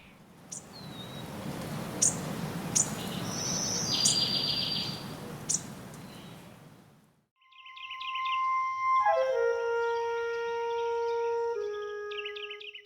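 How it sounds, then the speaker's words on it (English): Birds chirp in a cottage garden, first sharp scattered calls over a breezy rushing background, then after a brief quiet a clear cluster of tonal whistled notes sounding close and distinct. "they both heard a chirping sound from high up on the wall"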